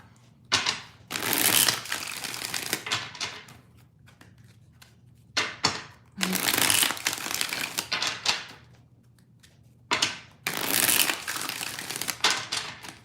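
Tarot cards are shuffled in three separate bursts of crisp riffling and slapping, each lasting a couple of seconds with quiet gaps between them, close by and without talk.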